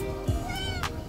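A clingy cat lets out a close, drawn-out meow that rises and holds, heard alone with a faint hum in the background.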